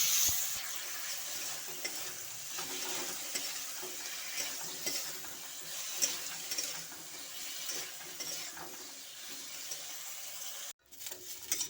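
A metal spatula scrapes and stirs boiled potato through thick spiced masala in a pan, giving repeated soft scraping strokes over a low steady sizzle, with a brief dropout near the end.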